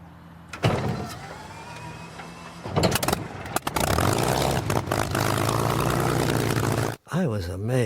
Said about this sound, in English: the big Merlin engine swings into action